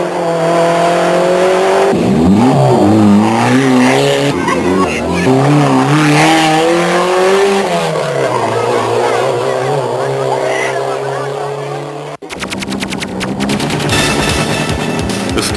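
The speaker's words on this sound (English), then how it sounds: "the 18 surviving vehicles take off for Eldred" Daihatsu Charade rally cars leave a stage start in the 1990 Safari Rally in Kenya. Loud engines rev and climb through their gears as the cars pull away one after another, with a voice talking over them throughout.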